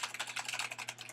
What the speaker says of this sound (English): Hear that sound? These are mechanical keys.